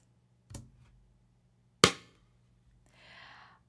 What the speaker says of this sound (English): I'm going to show you my snare sample